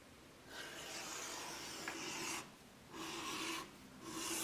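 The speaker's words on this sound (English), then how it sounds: "we can number 1 edge around the whole of the nice grain side of our strap" A number 1 edge tool shaves along the grain-side edge of a leather strap for a headcollar, giving three close, steady rasping strokes separated by brief pauses, with no voices.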